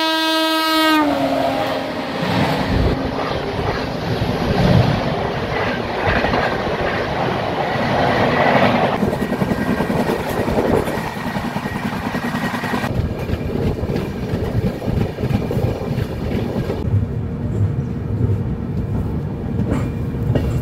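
Moving passenger train heard from inside at dawn in winter, a loud horn blast at the start and then a continuous rumbling roll with rhythmic clickety-clack of wheels over rail joints, no talk.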